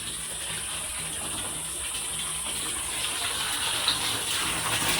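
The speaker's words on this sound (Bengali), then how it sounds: "ঠান্ডা জল" Cold water runs steadily from a tap, a constant hissing gush that holds even and fairly loud throughout with no voices.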